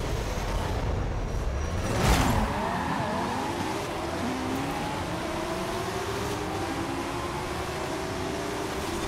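Porsche Taycan Turbo S electric car driving in Forza Horizon 5, with a quiet rising electric whine, tire noise and a brief burst of louder impact or skid early on, continuing steadily without speech.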